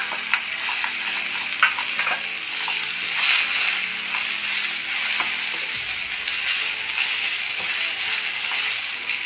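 Peanuts go into a hot frying pan for ragi upma, giving a close, continuous sizzle with clattering stirring and scraping throughout and no talk.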